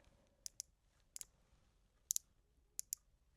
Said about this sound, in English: It's got clicking drag